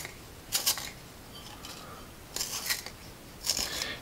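A vintage Russian wooden pencil is turned in an Apsara sharpener, producing three short crisp bursts of blade shaving separated by quiet pauses, close and clear.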